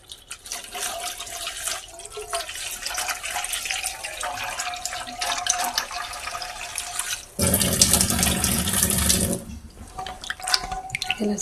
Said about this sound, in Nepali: पानीमा पखालौं।